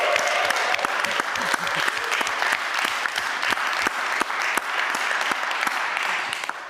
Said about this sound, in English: So I think we can do a round of applause for them